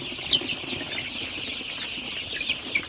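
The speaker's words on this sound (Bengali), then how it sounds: "জাস্ট একটু সোনালী সুপার হাইব্রিড মুরগির বাচ্চার রাতের ভিডিও শেয়ার করব।" A brood of Golden Super Hybrid chicks at night chirps and cheeps continuously, many small overlapping peeps close by, with occasional louder calls.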